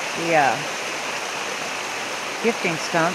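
Steady broadband rush of creek water flowing through a forest runs throughout the clip, with a voice talking over it at the start and end.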